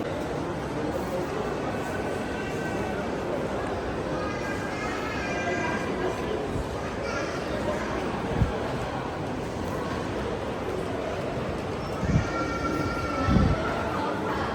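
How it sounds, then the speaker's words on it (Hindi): A Dubai Metro train rumbles steadily into a station, with a continuous low roar, faint squealing tones from the wheels, and a few clanks near the end. "ये आ गई अपनी मेट्रो भी।"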